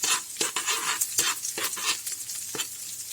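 Grated garlic and ginger are stirred in a hot pan for a paksiw na isda sauce, with a steady sizzle and repeated quick scraping strokes of a utensil against the metal, close and without talk.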